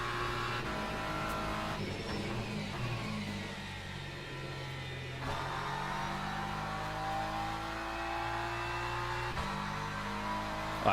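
A GT3 race car engine in a racing video game, Le Mans Ultimate, drones and shifts pitch continuously, revving up and down with tire noise, no voices over it.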